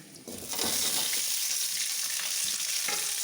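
Rambutan being sautéed with ginger and green chili in a pan for a Kerala pulissery: steady, close sizzling and frying that jumps up as the fruit hits the oil, with occasional stirring scrapes.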